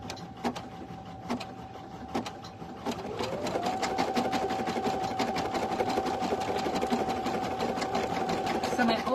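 An embroidery sewing machine stitches an in-the-hoop design, first with a few slow, spaced needle clicks over a steady motor whine, then settling into fast, even, continuous stitching at moderate loudness.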